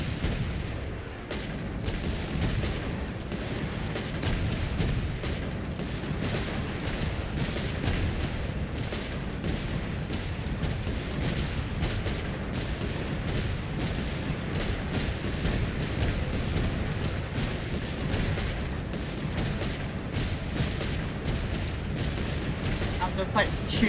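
Rapid, continuous robot gunfire from the video game Genshin Impact, a dense stream of sharp shots with heavy booming low end running unbroken for the whole stretch, loud and close with no pauses.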